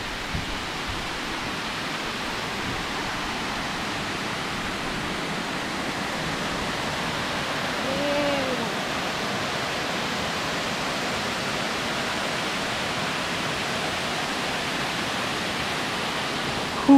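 Waterfall at Erawan National Park, a steady broadband rush of falling water filling the whole stretch, constant and fairly close with no talking over it.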